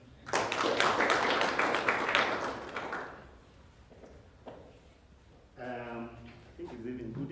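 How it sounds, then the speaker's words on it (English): Audience applause for a university registrar at a formal event, a burst of many hands clapping for about three seconds that fades out, followed by a speaker's voice. "Let's clap for him."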